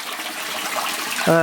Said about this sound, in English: you can see the waterfall, or blade as you want to call it, is going at full speed